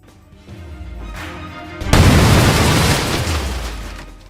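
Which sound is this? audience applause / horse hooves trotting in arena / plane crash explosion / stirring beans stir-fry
plane crash explosion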